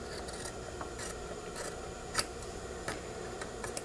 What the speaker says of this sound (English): Trim around the neckline.